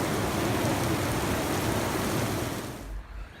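Heavy monsoon rain pours down in a dense, loud, continuous hiss outdoors, then drops off abruptly near the end.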